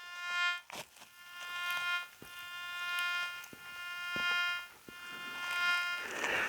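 A Nokta Gold Kruzer metal detector gives off a steady electronic buzzing tone with harmonic overtones, broken by brief clicks, and the tone shifts and swells near the end as the coil passes over metal.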